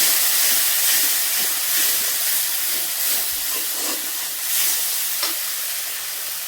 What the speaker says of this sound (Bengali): এবার এটা দিয়ে আরেকটু ভালো করে কষিয়ে নিতে হবে